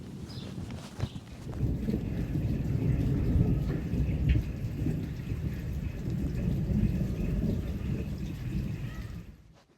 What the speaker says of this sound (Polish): Mhm, grzmi.